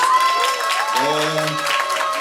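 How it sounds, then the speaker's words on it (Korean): Open-mic audience at a Daehangno café applauds after a song, steady clapping mixed with overlapping voices and a brief sung or cheering tone near the middle. "멋진 노래 들려준 우리 라니아에게 그큰 박수 한번 보내주세요."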